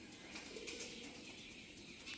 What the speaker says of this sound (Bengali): ওই যে জংলা কবুতর কেমন হয়েছে দেখছেন